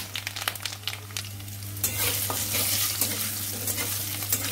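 Dried red chillies, whole cumin and bori lentil dumplings hit hot oil for a bottle gourd curry, a soft background crackle jumping into a loud, steady sizzle after about two seconds, with light stirring underneath.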